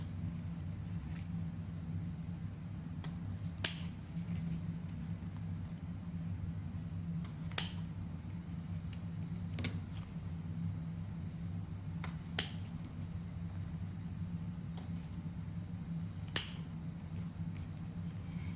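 Scissors trim the ribbon tails of a handmade bow, making a handful of sharp, isolated snips spaced several seconds apart over a low, steady background hum.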